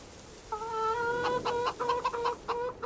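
Chickens cluck and squawk in Farming Simulator 25, a run of sharp, harmonic calls starting after a quiet half second and repeating in uneven bursts, close and clear with no talking.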